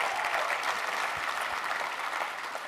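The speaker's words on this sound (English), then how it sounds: "So come on, we need to give her a round of applause." An audience claps for a guest at an innovation talk with a Texas state CIO, a steady, fairly close crackle of many hands lasting a few seconds without speech.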